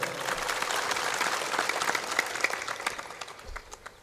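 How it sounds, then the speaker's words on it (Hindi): A seated audience at a religious discourse bursts into loud, sustained clapping, dense and steady for several seconds before gradually thinning out. "ताली बजाओ जोरदार।"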